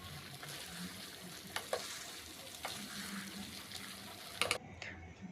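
Meat for an Eid meal is sautéed in a pan, giving a faint steady sizzle with occasional utensil clicks and scrapes and a louder clatter near the end, with no talking.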